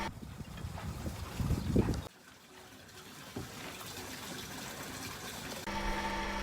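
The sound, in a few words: yacht air conditioning water pump running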